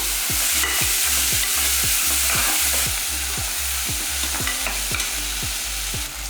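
Onions and a tomato sautéing for a mutton gravy sizzle steadily in the pan under a regular, rhythmic stirring, with repeated scrapes about every half second and no voices.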